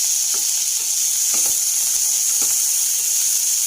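Tomato pieces sizzling in a hot pan on low heat, a steady bright frying hiss with a few soft stirring clicks throughout, close and continuous with no talking.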